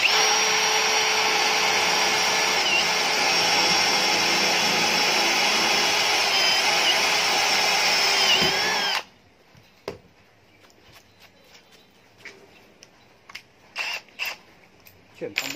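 A Milwaukee M18 cordless drill bores into iron with a loud, steady, high whine that runs unbroken for about nine seconds and then stops abruptly, followed by quiet clicks and handling noises.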